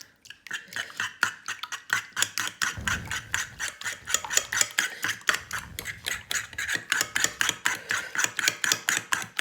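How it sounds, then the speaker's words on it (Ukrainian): Eggs are beaten in a bowl for a cutlet mixture: a fast, steady run of close clinking taps that keeps going for the whole stretch, with no talking. "Яйця зробимо, збиваємо яйця."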